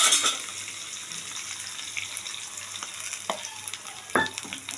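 Soy sauce, chilli sauce and cornflour batter sizzling as it is poured into a frying pan for chilli fish, a sharp hiss at first that settles into a steady low fry with a few stirring scrapes.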